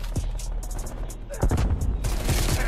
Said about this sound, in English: this bullfrog really don't got uh, a lot of recoil with this build